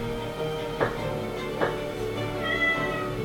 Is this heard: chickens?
no